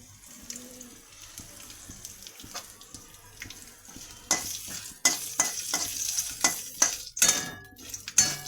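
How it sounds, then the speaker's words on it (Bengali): Spice tempering with asafoetida sizzling in hot oil for a Bengali fish curry, a steady crackling hiss that grows louder midway, broken by scraping clinks of a spoon against the pan, with no talking. "ফোড়নটা একটু হয়ে গেলে হিং দিয়ে দেবো।"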